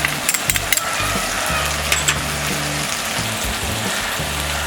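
Spiced masala rice with salt, garlic masala, garam masala, coriander-cumin powder and turmeric being stirred in a hot frying pan, a steady close sizzle with scraping clicks from the spoon and no talking.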